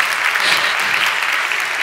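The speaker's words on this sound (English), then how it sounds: "I don't usually get so much applause, you're a great audience" An audience at a talk gives sustained applause, a dense, steady roar of clapping without speech.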